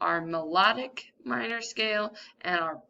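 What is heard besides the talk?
No distinct noise like a dog, phone or traffic.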